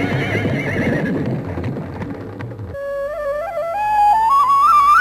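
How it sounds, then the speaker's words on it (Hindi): Chariot horses, first a busy clatter of hooves with snorting, then a loud, close whinny that rises in pitch and carries to the end. "रथ में जुटे हुए इन घोड़ों ने हमें तेज गति दी।"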